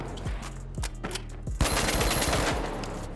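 Rapid automatic gunfire from the shooter game The Finals, close and loud, with separate shots at first and then a dense continuous burst.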